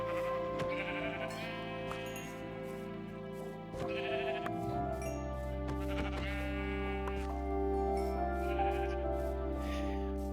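Several sheep bleat repeatedly in Minecraft over a steady droning background, overlapping calls rising and falling, moderately close.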